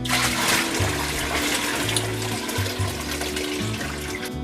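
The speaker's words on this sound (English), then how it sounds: "now it's time to fill it up with water" Water runs steadily and loudly into a wheatgrass growing system's tray, a continuous splashing, gushing pour close by with no talking.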